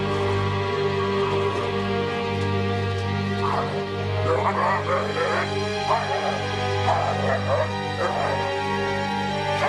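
Guard dogs released, giving repeated barks and yips at mid distance in several clusters over a steady, droning hum.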